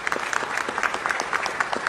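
Dense applause from an audience at a Los Angeles city event recognising Muslim Heritage Month, a steady wash of many hands clapping throughout with no voices standing out.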